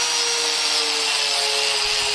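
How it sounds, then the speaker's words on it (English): A paint removal disc grinds paint and rust off a metal lawn mower deck with a steady, loud, abrasive whine that continues without a break. "using the paint removal discs, we are removing the paint and the rust to get it back to bare metal on the deck"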